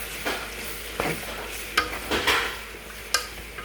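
A spoon stirs huckleberry stew in a pot, with soft sizzling and a few distinct scraping and clinking strokes against the pot, heard close and on their own.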